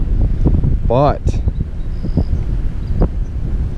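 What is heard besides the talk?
strong wind on a lake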